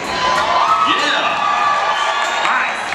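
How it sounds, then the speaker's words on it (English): Rodeo crowd at the Galveston County Fair cheering, whooping and shouting loudly and continuously, a dense roar of voices with rising yells throughout. "A round of applause"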